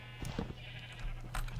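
Sheep bleat from a pen in a Minecraft game, several short, fairly faint calls over a steady low hum, with a louder bleat near the end.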